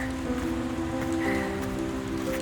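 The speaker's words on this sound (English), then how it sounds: "also it's raining quite hard" Heavy rain falls on the Baltoro Glacier on the trek to K2 base camp, a dense, even hiss of drops striking the surface that holds at a constant level with no pauses. A faint tonal hum sits underneath.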